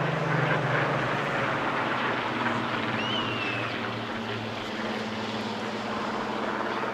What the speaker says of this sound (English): Just listening to the blend of the two aircraft engines as they flew past our microphones